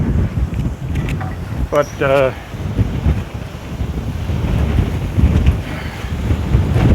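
Outdoor wind gusting against a wind-resistant microphone near a distant mountain wildfire, a steady low rumble throughout with a brief spoken word early on.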